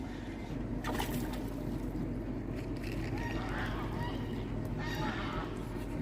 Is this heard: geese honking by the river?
yes